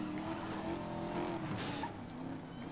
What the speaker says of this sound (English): Oh, look at that, I drifted so hard